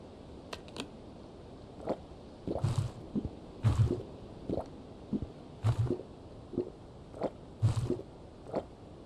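Drinking water in the survival game Winter Survival: a series of soft, wet gulps and squelches repeating about once a second, quiet and close, with no talking.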